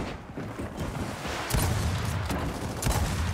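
Heavy Boomshot weapon fire in Gears of War 4, a dense run of booming blasts and impacts layered together, loud and close, with stronger bursts landing around the middle and near the end.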